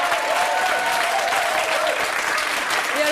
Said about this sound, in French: je crois qu'on peut l'applaudir très très fort